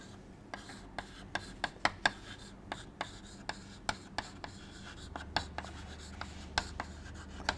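Marker or chalk taps and strokes on a board during an engineering lecture, a quiet run of short, sharp ticks and scratches coming in quick bursts over a low room hum.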